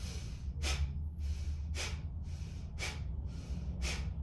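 A person demonstrates Kapalabhati pranayama with a close, rhythmic series of sharp, forceful nasal exhalations, roughly one short burst every second against a quiet background with no talking.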